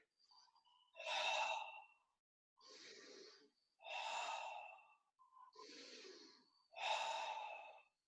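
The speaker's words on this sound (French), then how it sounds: "Engagez votre respiration abdominale." Deep abdominal breaths during a yoga session: five slow, audible airy inhales and exhales in a steady rhythm, each lasting about a second, close and breathy with brief pauses between.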